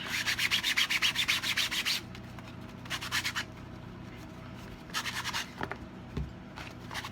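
A sponge is rubbed over paper to distress it for a junk journal, giving rapid rhythmic scrubbing strokes in three bursts separated by quiet pauses, close and clear.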